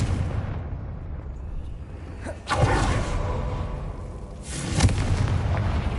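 Confringo blasting spell explosions in the video game Hogwarts Legacy, two booming blasts with whooshing bursts over a steady rumbling background.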